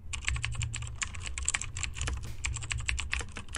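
Typing on a computer keyboard, a quick irregular run of close, crisp key clicks lasting a few seconds with no talking.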